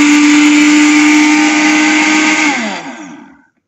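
A stainless steel Kenwood food processor grinder attachment runs with a loud, steady motor whine for about three seconds, then spins down and stops; no talking.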